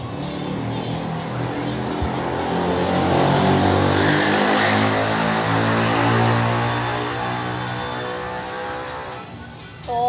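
A motorcycle fitted with a new aftermarket exhaust revs loudly and close, its engine droning steadily and swelling toward the middle before easing off.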